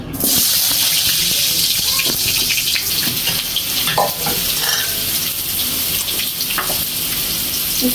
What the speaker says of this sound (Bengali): এখন আমি আলু ভেজে নিমু তেল গরম হয়ে গেছে আলু দিয়ে দেই